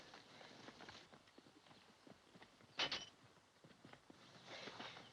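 Horse hooves clip-clop in a quick, uneven rhythm at moderate distance, with a sharp louder knock near the middle and faint background noise.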